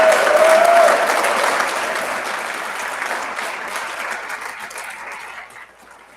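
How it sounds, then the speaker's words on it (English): A large graduation ceremony audience applauds loudly, the clapping strong at first and then gradually thinning out and fading over several seconds. "I think that they deserve a big round of applause."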